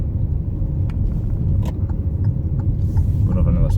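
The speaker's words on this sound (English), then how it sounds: "Going over another speed bump there, and not too much is jiggling" A 2018 Hyundai Tucson with a 1.6 GDI engine and manual gearbox rolls over a speed bump, giving a steady low road rumble inside the cabin broken by a few soft knocks and rattles.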